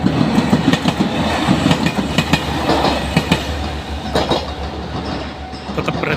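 A train rolls past a closed level crossing in Japan, loud and close, with a rumbling low drone and rhythmic clickety-clack of wheels over rail joints throughout.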